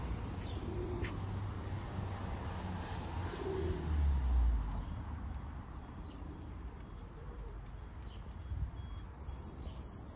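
Pigeons cooing softly at a bird feeder, low repeated coos under a steady wash of outdoor background noise, with a few faint higher chirps.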